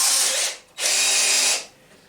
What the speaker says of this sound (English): Get a drill driver out.